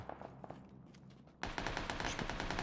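PUBG Battlegrounds gunfire: a few scattered distant shots, then a loud, rapid automatic burst that keeps rattling without pause until the end.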